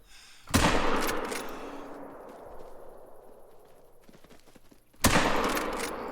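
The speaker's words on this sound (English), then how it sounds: "that first shot wasn't very good, but I think the second shot should help bring him down." Two loud 45-70 rifle shots aimed at a cape buffalo in Call of the Wild, spaced about four and a half seconds apart, each boom trailing off in a long rolling echo across open terrain.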